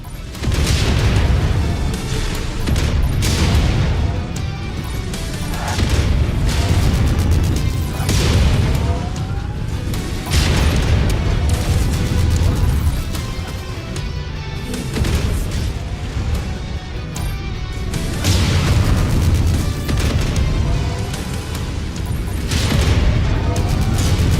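Missiles explode in the Mechwarrior video game, a series of heavy booms and crashing bursts recurring every few seconds across a continuous loud rumble.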